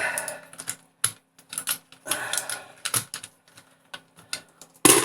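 Console function keys being popped off an Atari 800XL: close, sharp plastic clicks and clatters in quick uneven bursts, ending with a louder snap.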